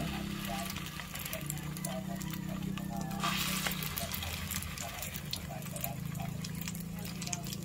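Egg-coated bread with cheese frying in a pan, a steady soft sizzle running throughout beneath someone speaking.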